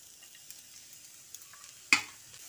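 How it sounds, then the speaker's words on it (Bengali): Grated carrot fries in a pan with chopped green chilli, a quiet, steady sizzle broken by a few faint ticks and one sharp scrape of a spatula near the end. "গাজরটা দিয়ে খানিকক্ষণ নেড়েচেড়ে নিচ্ছি"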